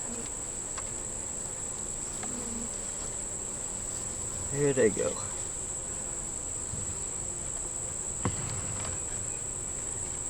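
Honeybees buzz around a hive in a sustainable apiary, a steady, fairly faint insect drone running the whole time, with a person speaking briefly midway.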